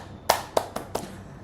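Four sharp hand claps, close and distinct, spaced slightly unevenly over about a second, in a podcast setting.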